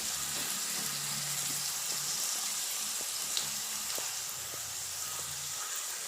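Prawns sizzle in coconut oil in a pan, a soft steady hiss with occasional faint pops and a few small clinks, close and quiet with no talk.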